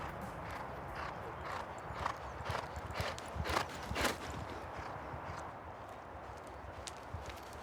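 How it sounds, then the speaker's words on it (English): Several racehorses gallop up a training gallop, their hoofbeats a steady, distant drumming that swells briefly in the middle before settling back, with open-air background noise and no talk. "I think there's 8 horses just gone up."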